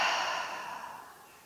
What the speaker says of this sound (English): Few big deep breaths here.